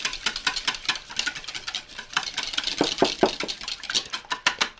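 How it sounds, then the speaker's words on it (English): A whisk beats an egg in a bowl while making soda bread, giving rapid, irregular ticking strokes that are fairly quiet and close, with no voices. "give that egg a quick beating"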